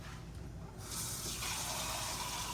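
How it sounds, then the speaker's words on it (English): Water gushes from a tap into a pot for butter bean soup, starting softer and then opening into a full, steady rush that fills the pot, close and loud with no talking. "fill this up with water, get this boiling"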